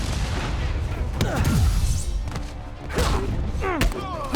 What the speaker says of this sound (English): Ah, rockets to my face! Every time!